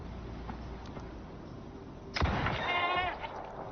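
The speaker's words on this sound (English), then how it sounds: "That was a goat." In the open-world survival game Icarus, a goat lets out a single wavering, quavering bleat at moderate distance, just after a sharp thud, over a steady outdoor ambience.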